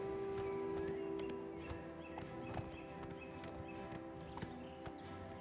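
A horse's hooves clip-clop at a steady walking rhythm in The Elder Scrolls IV: Oblivion, faint and regular beneath a sustained humming game background, with no talk.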